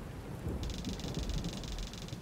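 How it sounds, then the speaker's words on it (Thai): Heavy rain pours in an anime-style adventure video game, a dense steady wash with low rumbling, while a brief high buzzing tone rises over it partway through. "โอ้โหฝนนี่มันตกมันหนามากหนาจริง"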